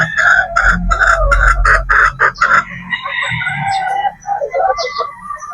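Boston Roundhead pullets in a breeding pen cluck and squawk in a quick loud burst, followed by softer chatter and clucks from the flock nearby.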